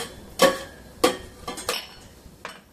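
Cinnamon being sautéed in a pan for mango muramba, heard as a few sharp, separate metallic clinks and scrapes of a utensil against the pan, close by, with no talking.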